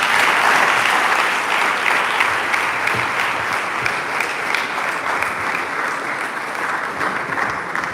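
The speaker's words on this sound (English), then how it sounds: "In fact, a round of applause again." Sustained applause from a seated audience after a talk on outwitting the flaws of academic systems, a thick even roar of many hands clapping at constant loudness throughout, with no voices rising above it.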